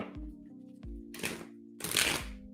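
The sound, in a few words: shuffling tarot cards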